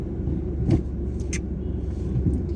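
A car engine idles and rumbles steadily at close range during a driving lesson while the driver shifts into reverse, with a few faint clicks and knocks over the low hum.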